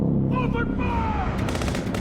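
Gunfire erupts in a loud Godzilla 2014 film scene, a burst of rapid shots under a shouted voice and dense rumbling soundtrack, continuing in a quick volley at the end.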